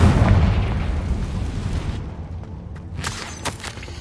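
A Confringo spell blasts in Hogwarts Legacy, a loud, deep booming explosion at the start that rumbles and slowly fades, followed by a few sharper crackling bursts near the end.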